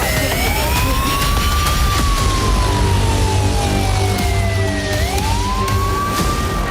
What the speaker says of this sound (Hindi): अचानक यूक्रेन के कई शहरों में सायरन बज उठे।